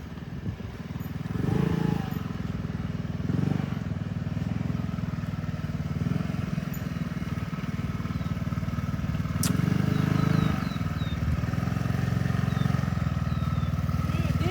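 A learner rides a motorcycle around a practice area, its engine putting out a steady, moderate drone with mild surges in throttle. A voice talks intermittently over the engine noise.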